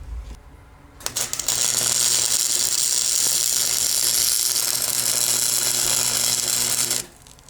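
MIG welding on the inside of an EGR port on a Lexus SC400 to fill it with weld, a steady close crackling buzz lasting about six seconds between quieter stretches, with no talk over it.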